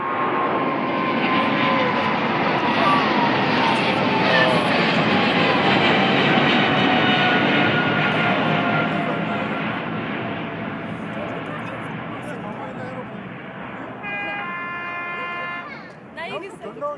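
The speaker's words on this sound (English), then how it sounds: "Here it comes. It sounds like a big plane." A PIA Boeing 777-340ER takes off at Birmingham Airport, its jet engines a loud, sustained roar that peaks and slowly fades as it climbs away. A few short beeps come near the end.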